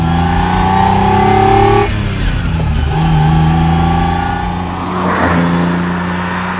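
A Ferrari Dino 246 GT with its 2.4-liter V6 revs hard and close: a strong, rising engine note that dips at about two seconds, climbs again, and swells once more near the end.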